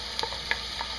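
Shredded white corn sizzles steadily with softened onions in a hot pan, a constant frying hiss broken by a few soft stirring scrapes and clicks.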